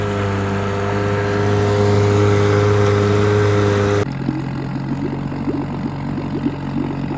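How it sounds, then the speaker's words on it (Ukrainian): A small outboard motor on a 1980 john boat hums steadily at idle, close by, its tone dropping to a quieter, rougher putter partway through. "моторчик работает очень тихо."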